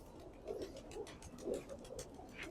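Jalali pigeons cooing on a house rooftop, soft low repeated coos in uneven bursts, fairly faint against a light background hiss.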